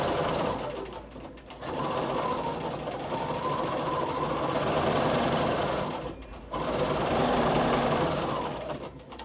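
A sewing machine runs in long, steady bursts during free motion quilting of echo designs, whirring loud and close with two brief pauses between runs.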